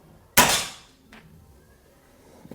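A single sharp shot from a PCP Bocap Guardian X air rifle, close and loud, with a bright crack that decays over about half a second, followed by a faint tick and quiet room noise.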